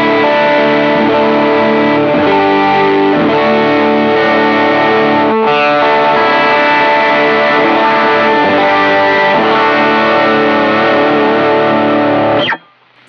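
An electric guitar plays loud sustained chords through a Mayflower distortion pedal, heavily compressed and saturated, the dense gritty tone shifting between chords for about twelve seconds before cutting off abruptly.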